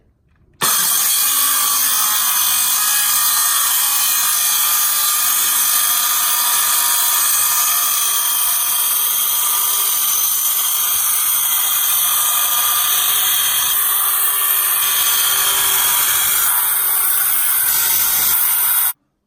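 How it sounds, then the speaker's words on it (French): A power tool cuts a kitchen worktop during a kitchen installation in one loud, unbroken, steady whine with a hissing edge. It runs for about eighteen seconds at close range, with no talking. "Donc là, découpage du plan de travail."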